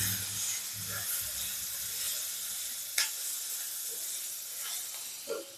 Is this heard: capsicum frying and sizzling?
yes